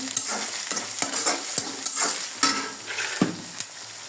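An egg fries in a pan for noodles, a steady close sizzle punctuated by regular scraping strokes of a spatula against the metal roughly every half second, with no voices.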